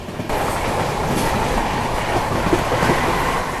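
The Vikramshila Express runs at about 110 km/h, giving a loud, steady rumble and rushing roar with faint clickety-clack of wheels on rails, heard from inside without talk.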